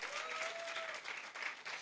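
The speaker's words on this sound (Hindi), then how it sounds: "अपने लिए ताली बजाओ" An audience claps together in sustained, dense applause that stays loud throughout with small swells.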